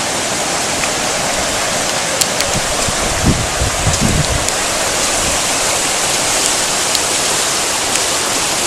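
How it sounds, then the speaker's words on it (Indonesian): Turbine outflow from the Saguling hydropower plant rushes in a steady, loud broadband roar of fast water, with a few low thumps and surges midway through. "Bisa Anda lihat, airnya mengalir begitu deras karena air tersebut merupakan air yang keluar dari turbin pembangkit listrik."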